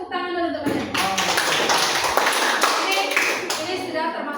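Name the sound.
students clapping hands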